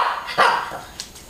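A dog gives one short, sharp bark at close range, trailed by a faint small yip, in a quiet indoor room.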